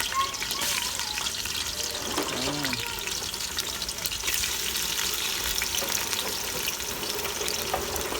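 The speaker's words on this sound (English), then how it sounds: "Oxtail over there start bubbling." Oxtail bubbling in a pot while cooking, a steady dense sizzle and simmer that runs throughout with brief faint voices murmuring over it.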